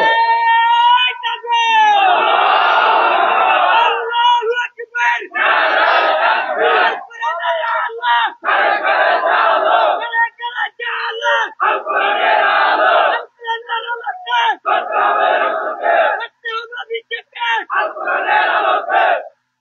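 A crowd at an outdoor Islamic sermon gathering in Noakhali, Bangladesh shouts takbir in loud repeated bursts, each call answered by a roaring mass response, with short pauses between rounds.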